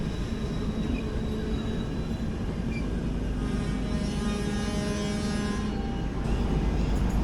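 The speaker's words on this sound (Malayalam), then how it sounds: "ഓപ്പോസിറ്റ് ലൈനിൻ്റെ ഒരു ട്രെയിൻ വരുന്നുണ്ട്." A train rolls past on the opposite line at Canacona station, a steady low rumble with faint wheel and rail tones that hold evenly throughout, heard from a halted express waiting at the crossing.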